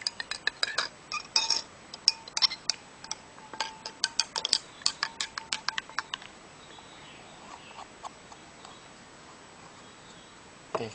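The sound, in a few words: stirring detergent water with added ink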